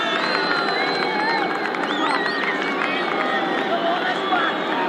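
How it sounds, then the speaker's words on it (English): A large stadium crowd at Lang Park for a 1984 State of Origin rugby league match roars and boos as the New South Wales team runs out, a dense continuous wall of voices with a commentator talking over it. "here they come to the predictable boos from the crowd"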